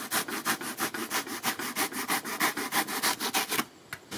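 A hacksaw carving a He-Man chest plate, rapid rhythmic back-and-forth rasping strokes, close and steady, stopping near the end.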